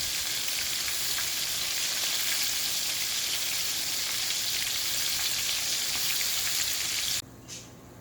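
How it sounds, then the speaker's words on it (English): Freshly caught fish fry in a pan with a steady, close, hissing sizzle full of fine crackles, which cuts off abruptly near the end, leaving a brief quieter moment. "I'm going to turn them over once in a while too to keep them cooking evenly here."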